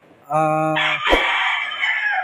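A gamecock crows once, close and loud, a harmonic call rising then holding, with a short thump partway through.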